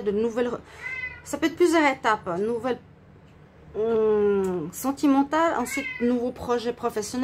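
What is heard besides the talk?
cat meowing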